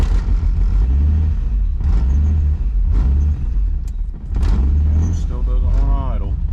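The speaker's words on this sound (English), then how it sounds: "Thing will not idle worth a crap, so let's fix this" Nissan 300ZX turbo engine idling roughly, a low uneven rumble that surges and sags, broken by several sharp clicks and knocks, with a brief rising chirp near the end.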